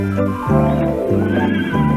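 A horse neighs repeatedly and loudly, with several shrill, wavering whinnies close by, each one breaking off before the next begins.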